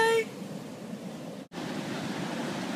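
Ocean waves on a vacation shore wash in as a steady broadband surf hiss, fairly soft, after a short tonal sound at the very start, with a brief dip in the middle before the surf resumes.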